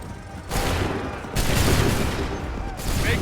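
Musket volleys crackle in Assassin's Creed III: dense bursts of massed gunfire come in three broad waves, loud and close, each a ragged rolling crash with shouted commands around it.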